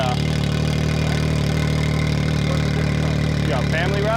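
A turbocharged UTV engine idles with a steady, loud mechanical hum and rattle, close by, while people talk over it at a busy show.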